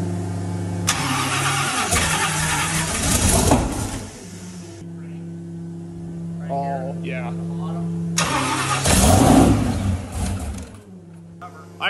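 A Whipple 4.5L supercharged 427 cubic inch LSX V8 cranks and fires on its first start, roaring loudly in two bursts that settle into a rough, steady idle between them, with someone talking over the engine.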